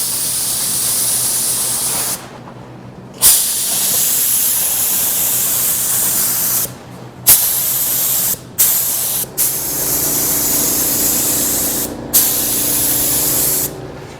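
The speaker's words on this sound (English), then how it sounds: "with this base coat, it is a metallic paint, so you're going to want to make sure you're a little bit farther away than normal" Dupli-Color metallic base coat sprays from an aerosol can in long, loud hissing passes, cut by several short gaps as the nozzle is released between strokes, with no talking.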